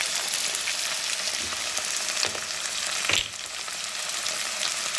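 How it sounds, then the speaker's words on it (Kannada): Ingredients fry in hot oil for a pea curry, giving a continuous bright hiss with a few soft clicks and stirring scrapes, close and fairly even throughout. "ಇದಿಷ್ಟು ಸ್ವಲ್ಪ ಟೈಮ್ ಆಯಿಲಲ್ಲೇ ಫ್ರೈ ಮಾಡ್ಕೊಳ್ಳಿ."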